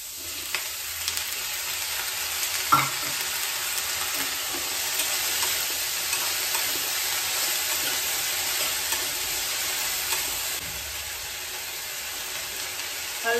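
Onions fry with garlic, ginger and chilli in a hot pan, a continuous bright sizzle at steady volume with a couple of soft knocks, running without talk.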